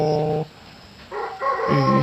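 A dog gives a couple of short, tonal, whining barks, one at the start and a pair toward the end, loud and close, with a quieter gap between them.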